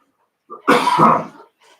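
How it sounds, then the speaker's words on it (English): A single harsh cough with some throat clearing rings out close to the microphone at a school board meeting, then fades into a short breath. "I'm gonna cough"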